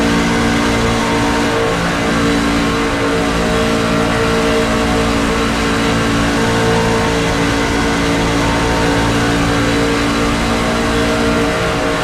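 Racing trucks from the NASCAR Craftsman Truck Series at Talladega in the iRacing sim, engines droning at steady high revs throughout, a dense, loud pack sound with no pauses.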